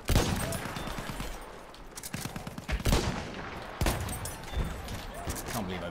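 Sharp gunshots ring out in a Battlefield 1 match, with a sniper rifle crack among several bursts of gunfire over steady battle noise while someone talks throughout.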